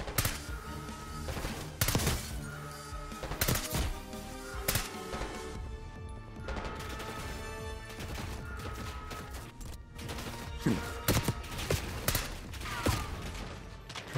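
Gunfire in the Call of Duty Black Ops 6 campaign as a magazine is emptied, with repeated loud bursts and single shots scattered across the stretch amid explosions and game score.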